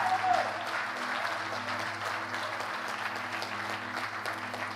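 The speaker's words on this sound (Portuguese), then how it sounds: "Pode aplaudir o Senhor, queridos." A church congregation applauds steadily and continuously, a dense wash of clapping from a crowd indoors with faint voices mixed in.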